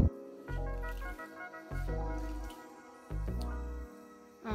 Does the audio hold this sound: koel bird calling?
no